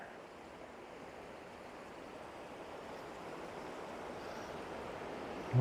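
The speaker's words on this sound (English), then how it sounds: "There's a bit of a rapids there" River rapids in Molonglo Gorge keep up a steady, broadband rushing of flowing water, even and moderately loud, slowly swelling and free of any voices.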